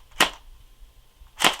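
Two sharp shots from a CYMA AK-47 airsoft rifle fired through a chronograph, a loud crack near the start and another about a second later, each with a brief bright snap and quiet between.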